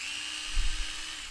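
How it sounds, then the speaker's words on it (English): A power drill bores a hole into a lacrosse ball, giving a close, sustained motor whine with a brief low grinding burst in the middle of the short clip. "So I'm just going to drill a hole in this."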